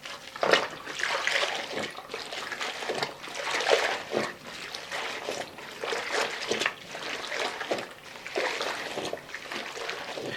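A floor mop being rinsed vigorously in water, with repeated splashing, dribbling and trickling bursts that rise and fall in an irregular rhythm, close and fairly loud.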